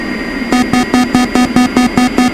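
An A-10C jet engine in the DCS flight simulator runs steadily after start-up, a loud sustained whine and hum with a regular pulsing beat, close and alone.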